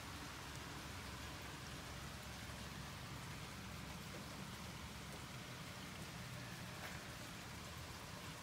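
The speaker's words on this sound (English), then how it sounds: "It's been raining all day today." Steady rain falling on a surface on a day of continuous rain, a dense, even hiss of drops with no pauses, close and constant throughout.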